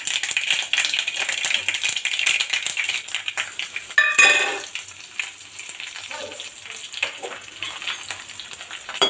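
Dried red chillies, cut in half, and mustard seeds fry in hot oil as a tempering for mint rice, giving a steady close sizzle with scattered crackles and a brief louder burst of popping midway before settling.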